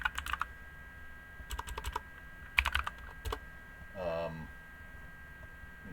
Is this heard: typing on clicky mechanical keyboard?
yes